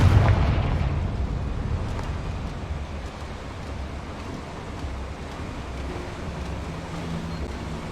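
A Confringo fire spell from Hogwarts Legacy detonates with a loud opening burst at the start, then a rumbling low roar that slowly fades into a steady wash of ambient noise.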